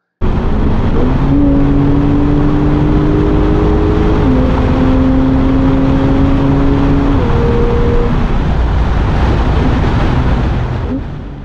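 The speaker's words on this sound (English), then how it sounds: "you can hop into the left lane, push the car to whatever limits you feel comfortable" A Porsche accelerates hard on the German Autobahn, its engine note climbing in stepped gear-by-gear pitch rises over steady road and wind roar, heard loud from inside the car.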